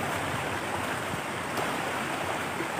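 Floodwater rushing down a swollen river during a flash flood, a steady broadband roar heard close and alone, with no voices.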